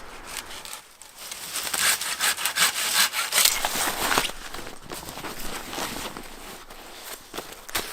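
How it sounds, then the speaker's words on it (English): Dead lower branches are snapped and broken off a tree for firewood outdoors, producing a run of close, crackling snaps and rustling wood scrapes. "I'm gonna take down all the dead underbranches from this tree. I'm gonna use them as firewood."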